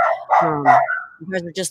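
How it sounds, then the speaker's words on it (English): Several dogs bark at home in a short, close burst of sharp, overlapping yaps, loud and busy, with no voices over them. "my dogs are barking"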